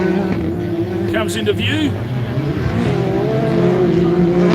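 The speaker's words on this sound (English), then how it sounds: "Another Can-Am Maverick." A Can-Am Maverick off-road vehicle races around a dirt track berm, its engine a steady droning roar that rises as it comes into view, with a commentator talking over it throughout.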